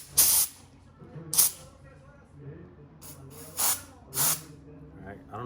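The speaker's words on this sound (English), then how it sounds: "So, you get your compressed air." Compressed air blows into a brake caliper in several short, sharp hissing bursts separated by pauses, with a low background hum between them.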